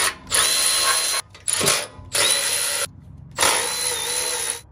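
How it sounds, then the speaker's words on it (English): A big Milwaukee cordless ratchet spins off 17 mm bolts holding an ARB bumper to its frame brackets, three loud close bursts of whirring separated by short pauses and a metallic clink. "I'm gonna go ahead and utilize my big Milwaukee cordless ratchet to do that."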